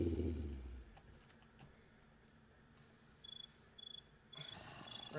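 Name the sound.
crickets chirping in the video game Minecraft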